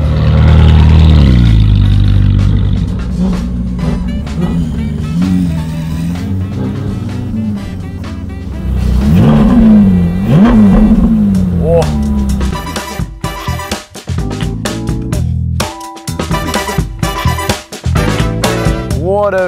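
A Ferrari 458 Speciale at a harbour in the Netherlands, its engine roaring loud and close with rising revs and surging pulls, while people talk over it.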